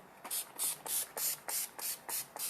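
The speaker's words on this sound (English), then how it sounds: "so now we will set it with our setting spray." Makeup setting spray is pumped onto a face over Halloween makeup: about eight quick, close hissing bursts in a steady rhythm, each one short and sharp, with nothing else heard.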